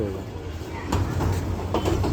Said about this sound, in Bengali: ট্রেন কীভাবে উল্টো পথে চলে উল্টা দিকে যাচ্ছে